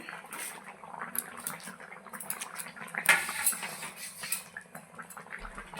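Fried bata fish being added to a simmering pot of lapha greens curry, with quiet bubbling, liquid movement and a few light clinks of utensil against pot, close and low in level.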